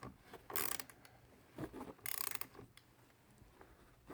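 A wrench tightens the nut on a battery terminal of a 2021 Jeep JL, giving quiet ratcheting bursts: two longer runs of rapid clicks plus a few brief ones, close but faint.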